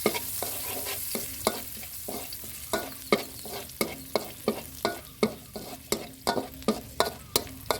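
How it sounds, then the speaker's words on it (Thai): Minced garlic stir-fried in leftover oil in a pan, a steady sizzle broken by regular scraping strokes of a spatula, close and busy, with no voices. "เราก็ใส่กระเทียมสับลงไปผัดนะครับ"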